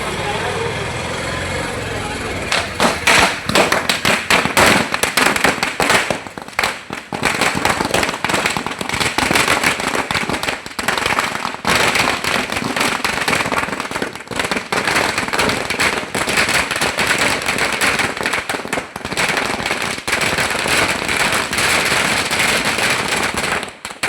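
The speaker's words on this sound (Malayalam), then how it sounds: "പടക്കം പൊട്ടിച്ചും മധുരം വിതരണം ചെയ്തുമാണ് പ്രവർത്തകർ ആഹ്ലാദം പങ്കിട്ടത്" Firecrackers burst at a street celebration by UDF workers in Thalassery marking V. D. Satheesan becoming chief minister: a dense, rapid crackling string of loud pops runs for most of the stretch, with voices talking over it.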